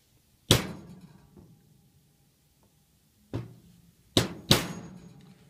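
A center punch is hammered into a drawer handle in four separate sharp metallic strikes. They are near and crisp, with a pause before the last three and a brief ring after each hit.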